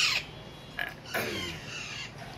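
Young Alexandrine parakeets, a male and a female, let out a few harsh, short squawks, loud and close, separated by brief gaps over a steady background hiss.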